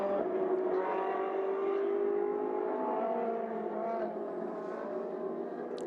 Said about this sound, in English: the team checking out Mancinelli's car. Restarts the engine.